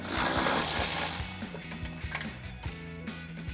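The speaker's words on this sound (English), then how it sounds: "Next, we can remove the bolt on the rear of our power steering reservoir bracket. So we'll grab that 12mm socket again to take that out." A 12mm socket wrench loosens a bolt on a power steering reservoir bracket with a rapid, even ratcheting clicks close by, following a brief rustle and carrying no talk.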